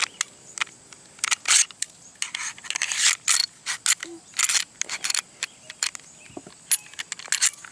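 A compact pistol, a Springfield XDS or S&W Shield, is put back together by hand, its slide and parts giving sharp metallic clicks and scrapes in irregular bursts, close up, with no talking.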